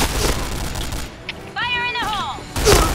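An AK-47 fires in loud, close automatic bursts in a video game, with dense rapid cracks at the start and end and a short tonal in-game sound between them.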